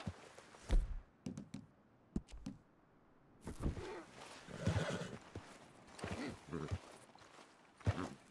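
A horse in the game Red Dead Redemption 2 whinnies and snorts amid clip-clopping hooves and thuds, in uneven bursts separated by quiet gaps.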